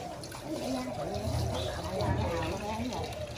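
Lye ash water is poured off soaked glutinous rice at a large bamboo-leaf rice dumpling kitchen, giving a gurgling, splashing trickle that runs steadily under people talking nearby.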